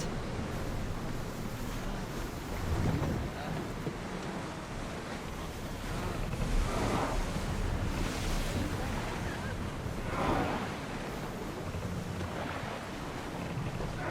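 A sailing ship crossing the sea in Assassin's Creed Odyssey, heard as a continuous wash of waves and wind with swells rising and falling every few seconds.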